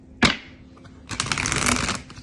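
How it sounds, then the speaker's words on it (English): A deck of tarot cards is handled: one sharp snap, a short pause, then a rapid, papery riffle as the cards are shuffled, close and fairly loud. "Shuffle them again."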